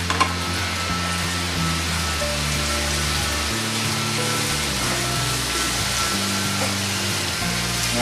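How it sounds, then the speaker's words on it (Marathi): Onion and bell pepper pieces fry in a pan for chicken chilli, with ginger and garlic. A loud, steady, close sizzle crackles continuously throughout, with no talking. "आपण थोडंसं परतूया."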